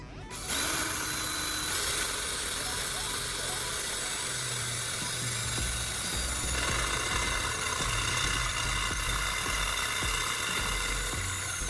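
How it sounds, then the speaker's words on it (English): A drill with a freshly sharpened bit bores holes in metal, a continuous loud mechanical whir and grinding that runs steadily, with a pitch shift partway through as the bit cuts. "It drills those holes effortlessly and incredibly fast."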